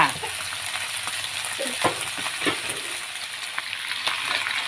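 Cantonese sprouts tipped into a hot pan for a stir-fry sizzle loudly in a steady, dense hiss, with occasional spatula knocks and scrapes close by and no voices.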